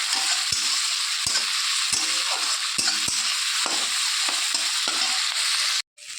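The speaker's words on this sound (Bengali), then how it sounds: "এবার মশলাটার সঙ্গে চিংড়ি মাছটাকে একটু ভালো করে ভেজে নেব।" Shrimp frying with spice paste in a pan: a steady, bright sizzle broken by regular sharp clicks of a spatula stirring against the pan, with a brief cut near the end.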